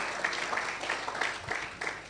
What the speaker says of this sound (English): I'd like everyone to just give a round of applause for this